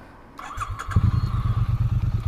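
A 2016 Triumph Street Twin motorcycle starting up: a brief starter whir, then the engine catches and settles into a loud, close, pulsing idle with a steady rhythmic thump.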